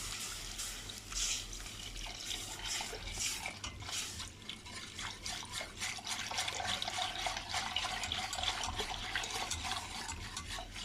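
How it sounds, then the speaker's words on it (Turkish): Milk poured slowly into roasted flour in a pan for muhallebi, a soft liquid trickle and gentle stirring heard close and quiet throughout. "Şu an kontrollü bir şekilde sütümü ekliyorum."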